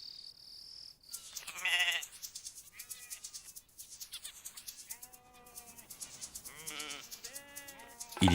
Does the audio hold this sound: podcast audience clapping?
no